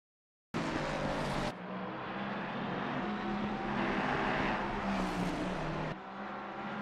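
A GT3 race car lapping Suzuka in a racing video game, its engine droning steadily at moderate level with rising and falling revs, and no voices.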